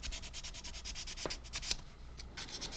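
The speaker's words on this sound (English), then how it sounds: "let's just give that a little bit of a sand" Hand sanding the rough edges of a carved Final Fantasy V model's rear foot and lower leg, quick rhythmic rubbing strokes, close and quiet, with a couple of small sharp clicks partway through.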